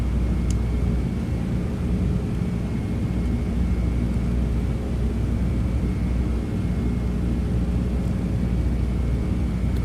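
A FedEx MD-11's jet engines at climb thrust in Microsoft Flight Simulator give a steady, loud, broadband roar with a constant low rumble and a faint high whine. The roar holds unbroken, with no voices.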